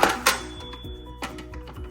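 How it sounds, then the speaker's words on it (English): A Fisher-Price toy cash register's drawer opens with a sharp mechanical clack and short plastic rattles, followed by a few smaller clicks and a faint electronic tone. "Now, when we open the cash register"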